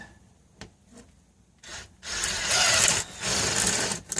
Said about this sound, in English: I have these drills that go into the impact, little spade bits.